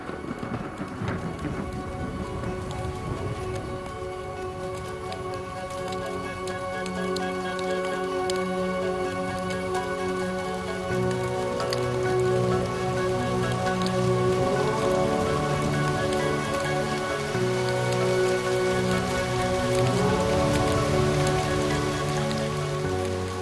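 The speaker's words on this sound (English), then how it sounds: "This is more than just rain, more than drinking water" Heavy rain falls steadily across the Serengeti plains, a dense continuous hiss that grows slightly louder over time, with tonal music playing underneath.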